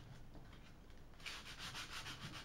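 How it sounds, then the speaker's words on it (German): Hand sanding primer off the body of a Harley Benton guitar kit: steady, rhythmic rubbing strokes, quiet at first and then louder and closer, with no talking. "jetzt beim Schleifen merke ich, dass das runtergeht"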